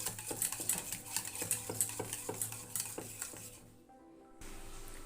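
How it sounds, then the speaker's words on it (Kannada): A spoon stirs milk with jaggery and cardamom powder in a metal pot, scraping and clinking in a steady rhythm, close and clear, then pausing briefly before a low steady hum. "ಈ ಥರ ಚೆನ್ನಾಗಿ ಬೆಲ್ಲ ಕರಗೋ ಥರ ಚೆನ್ನಾಗಿ ಮಿಕ್ಸ್ ಮಾಡ್ಕೊಳ್ಳಿ"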